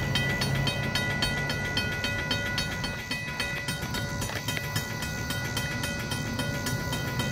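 A Kiamichi Railroad train hauled by a GP locomotive rolls past at Idabel, Oklahoma, a steady, loud rumble of wheels and cars with a sustained tonal whine throughout.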